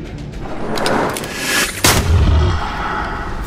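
Gunfire blasts in the Eternal Card Game shooting down a dragon: a sharp, loud boom near the middle cuts through a dense, rumbling battle ambience, with heavy low-end thump trailing after it and no talk.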